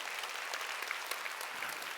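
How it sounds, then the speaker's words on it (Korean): A church congregation at a Wednesday worship service claps together in a steady, dense round of applause, heard from a distance with a faint roomy quality. "오늘을 깨달았으면 박수 치라고요"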